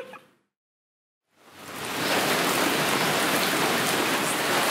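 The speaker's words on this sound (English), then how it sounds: "First sort of big rain that we're experiencing here." Heavy tropical rain pours down in Koh Samui, Thailand, rising after a short silence into a steady, dense, close hiss that stays loud and unbroken to the end.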